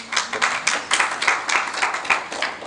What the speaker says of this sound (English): Another round of applause for Sherief.